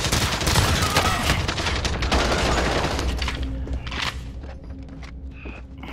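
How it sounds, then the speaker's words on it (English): In a Call of Duty Warzone Rebirth Island match, loud, dense bursts of automatic gunfire from overhead dominate, then thin out into scattered shots and footsteps as the barrage fades. "Whoa, bullets from above."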